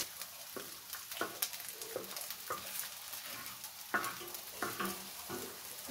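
Red onion frying in a pan for chicken broth, sizzling softly while a spoon scrapes and pushes it to the edges in a series of sharp clicks and knocks.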